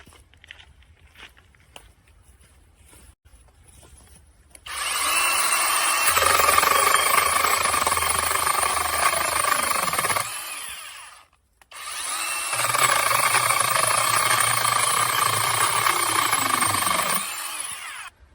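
A Krafftec cordless battery chainsaw starts after a quiet stretch and runs with a loud, steady whine for about five seconds. It stops briefly, then runs again for a second long burst, close by.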